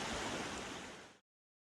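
A stream on the Appalachian Trail flows steadily in a broad, close wash of rushing water noise that cuts off abruptly after about a second.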